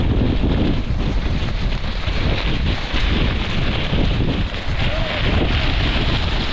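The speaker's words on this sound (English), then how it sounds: "very windy." Strong wind gusting at Squamish, a steady loud roar buffeting the microphone for the whole stretch, with a faint hint of water beneath.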